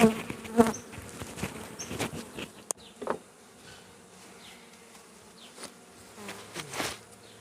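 Honeybees buzz faintly at an open hive of a weak colony, with a few closer fly-bys and some sharp handling knocks and clicks against a quiet background.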